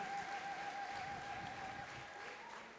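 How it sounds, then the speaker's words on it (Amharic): A church congregation in Addis Ababa applauds in a steady, dense patter that holds evenly throughout, fairly soft, with a thin sustained tone running beneath it. "ጭብጨባ"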